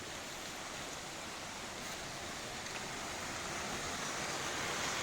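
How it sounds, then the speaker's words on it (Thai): A steady, broad rush of water falling down a waterfall fills the whole stretch, constant and even with no voices. "พาชมน้ำไหลลงมาจากน้ำตกนอนนอน"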